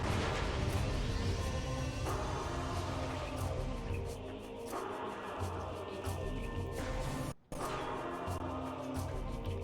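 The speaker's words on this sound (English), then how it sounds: "This gate was closed, but we can start power bombing these" Repeated power bomb blasts in Metroid Prime 2: Echoes, a dense, continuous roar of booming explosions and crashing debris filling the whole stretch, with one brief cut in the middle before the rumbling resumes.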